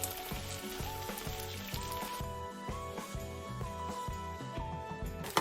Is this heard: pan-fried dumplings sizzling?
yes